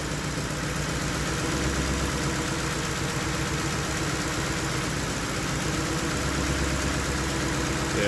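Lexus LS460 V8 idling with a misfire, a steady close mechanical drone with faint uneven pulsing underneath, continuous and alone without any voices.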